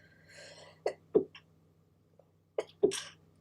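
A person sneezes at close range, twice, each time a sharp catch of breath followed by a loud burst, with quiet gaps between, during a relaxed crochet craft-and-chat session.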